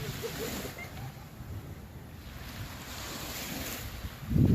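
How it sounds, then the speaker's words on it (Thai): Steady wash of sea surf at Rayong, Thailand, with wind buffeting the microphone, a low continuous rumble that swells into a louder gust near the end; no voices. "จะพาไปฟังเสียงทะเลนะคะ นี่บรรยากาศทะเลค่ะพี่น้อง"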